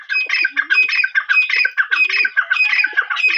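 Fancy pigeons squawk and coo in a loud, busy chorus of repeated harsh calls, close by and with no talking.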